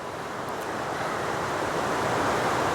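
Water flows steadily in the woods, a continuous broad rushing wash that grows slightly louder, close and unbroken, with no voices.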